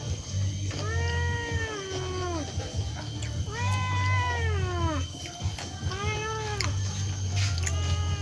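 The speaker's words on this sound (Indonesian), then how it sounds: "Jadi kebetulan di sini ada kucing." A cat at a village food stall gives several long, drawn-out meows in a row, fairly close and loud over a low steady hum.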